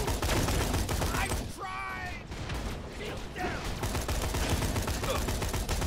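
The Major Tom assault rifle fires in Borderlands The Pre-Sequel, giving dense continuous bursts of loud gunfire with mechanical clatter. A short whistling tone cuts through about a third of the way in.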